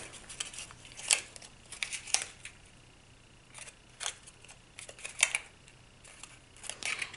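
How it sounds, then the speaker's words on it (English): Paper tabs of a die-cut card basket being folded and pressed into place, giving a series of crisp crinkles and sharp creasing snaps spaced unevenly, close up and with no talking. "I'm going to fold in my little tabs and line my scored corners up with my cut edges."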